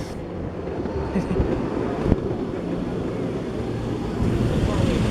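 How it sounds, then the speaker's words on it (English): A small ride-on steam train rolls along its track with a steady low rumble and clatter, one sharp knock partway through, and some wind noise over the microphone. "This is the future of steam train driving."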